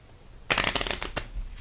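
A deck of cards is shuffled, a short close burst of riffling flutter lasting about a second, then a brief slap as the deck settles, with no talking.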